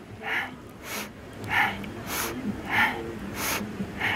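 Rhythmic yoga breathing during a dynamic upper-body warm-up, with strong inhales and exhales alternating steadily about every half second, close and clear with no talking.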